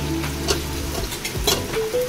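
Fish fries in a pan with a loud, close sizzle, broken by a few sharper bursts and scraping strokes as it is moved about.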